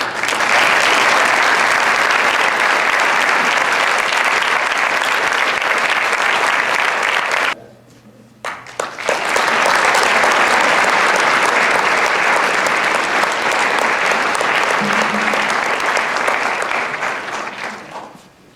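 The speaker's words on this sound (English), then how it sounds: "So I'd like to just take a moment and give them a round of applause." Sustained applause from a large audience at a mid-year graduation and commissioning ceremony, dense and loud, breaking off briefly near the middle before resuming and slowly tapering.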